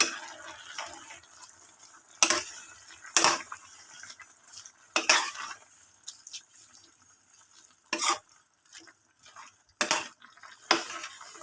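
Half a kilo of chicken liver is stirred in a pan, with a utensil scraping and clacking against the metal in separate strokes spaced a second or two apart, over a faint background sizzle.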